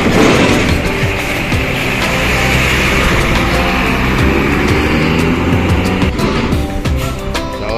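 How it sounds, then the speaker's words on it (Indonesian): A tourist bus arrives at a bus terminal, its steady engine rumble and road noise filling the scene loudly and continuously, with a broad motor drone holding throughout and no talk over it. "Selanjutnya diikuti unit bus pariwisata"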